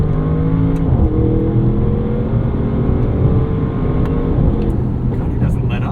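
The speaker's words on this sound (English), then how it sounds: "Some really cool boost noises too. You can hear some induction, which is nice." A Bentley Bentayga Speed SUV with a twin-turbo V8 pulls hard under acceleration, a loud, close in-cabin engine roar with rising pitch sweeps as gears climb, sustained without letup over several seconds.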